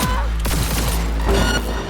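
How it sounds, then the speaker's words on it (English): Rapid gunfire rings out in Cyberpunk 2077, a dense volley of sharp shots over a loud low hum, several distinct cracks packed into a couple of seconds. "Heard shots."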